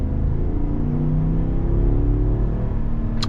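A 2021 Lincoln Navigator or 2021 Cadillac Escalade luxury SUV accelerating, heard from inside as a steady, loud low engine drone and road rumble that holds throughout without a break.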